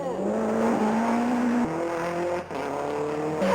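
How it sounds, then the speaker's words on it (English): Toyota Celica engine in the World Rally arcade racing game, a loud continuous synthesized engine drone with rising pitch sweeps as it revs up through gears, shifting abruptly at gear changes. "All the different engine sounds of the Celica have been very faithfully entered into the game"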